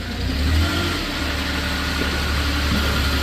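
A 2016 Moffett M8 truck-mounted forklift driving around, its engine giving a steady, loud, close rumble with a slight swell in revs early on, continuous and without talking.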